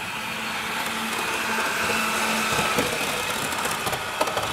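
A Bachmann Windhoff MPV model train runs along its track with a steady, faint whirring motor hum and light mechanical rattle, heard alone at close range.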